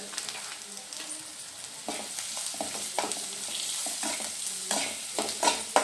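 Leftover chapati noodles with turmeric, red chilli and salt stirred in a frying pan, a steady close sizzle broken by repeated scraping strokes of the spoon against the pan, with no talking.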